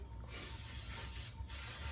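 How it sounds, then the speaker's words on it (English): Cooking spray hisses from an aerosol can into a casserole dish in a home kitchen, one long steady spray with a brief break near the end before a second burst, close and loud with no talking. "And just spray it real good so it doesn't stick."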